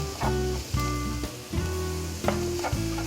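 Food stir-fried in a hot pan sizzles loudly and steadily, with repeated scraping strokes of a utensil in an uneven rhythm.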